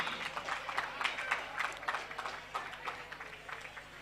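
Clapping and applause from a crowd at a village Holi tournament cricket final, a dense patter of many hands in uneven bursts, moderately distant.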